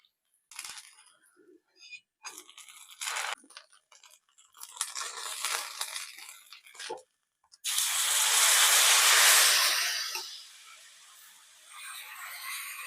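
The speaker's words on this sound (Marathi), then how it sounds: "पलटून घेऊया. दोन्ही बाजूनी छान भाजून घ्यायची." Kayroli, a Kokani flatbread, roasts on a hot pan, with a few scraping handling noises first and then a close, loud sizzling hiss as it is flipped. The sizzle swells and fades, and a softer hiss follows.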